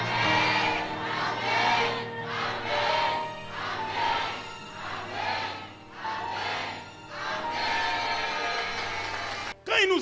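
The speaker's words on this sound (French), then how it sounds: "Je pensais que vous allez crier Amen 7 fois au moins." A church congregation at an Easter celebration shouts loudly together in repeated swelling waves of voices, a dense crowd roar rising and falling for several seconds.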